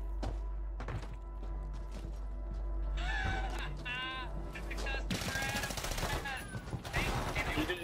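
Gunfire in the video game Call of Duty: Warzone, with bursts of rapid shots and thuds that grow denser and louder toward the end, while voices talk over the action.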